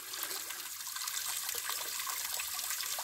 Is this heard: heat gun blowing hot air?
no